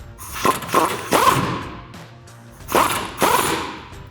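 Impact gun with a 21mm socket loosening a rear shock absorber bolt on a 2007-2018 Chevrolet Silverado or GMC Sierra 1500 pickup. Several loud, close rattling bursts come in two groups with short pauses between them.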